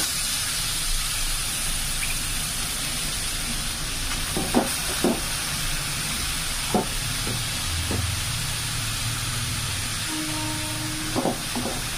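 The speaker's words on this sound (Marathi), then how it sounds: "तर याच्यामध्ये आता आपला हलवा गाजर किसलेलं जे आहे ते टाकून घ्यायचं आहे." Grated carrots hit hot ghee in a pan for gajar halwa, producing a steady, close frying sizzle throughout, with a few faint utensil clinks and no talking.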